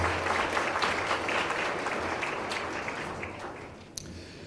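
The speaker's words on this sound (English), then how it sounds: "let's give our champions a big round of applause" Applause at a motorsport awards ceremony for the season's champions, a full hall clapping steadily, fairly even and moderately loud, tapering slightly near the end, with a few louder individual claps standing out.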